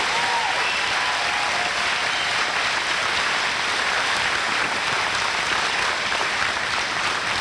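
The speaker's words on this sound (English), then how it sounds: "Please give them your applause." Graduation audience at a high school commencement applauding steadily for the senior class officers, a dense, even wash of clapping from many hands that holds level throughout without talk.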